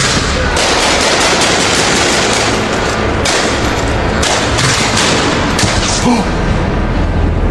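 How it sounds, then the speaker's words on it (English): Loud, dense gunfire rattles continuously in rapid bursts, with heavier shots booming through the steady barrage. "the other men exchanged fire"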